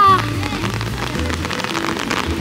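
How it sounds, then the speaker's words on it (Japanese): Heavy rain pours down during a sun shower in Osaka's Shinsekai district near Tennoji, a dense steady hiss of drops close by with brief tonal sounds and faint voices in the background. "めっちゃ雨降ってきてる。"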